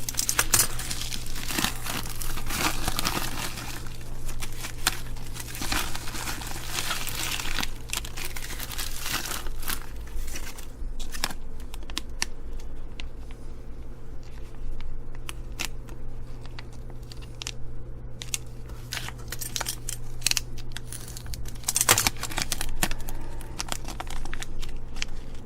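Paper envelopes of mail from China are torn open and handled, giving steady crinkling, rustling and tearing over a continuous low hum, with occasional small clicks and rattles of contents close by.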